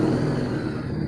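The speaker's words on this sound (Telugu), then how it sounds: "అందరిది childhood dream bike Harley Davidson తీసుకొచ్చాను" A Harley-Davidson Street 750 motorcycle engine revs close by with a steady, loud, throaty rumble, heard alone for about a second.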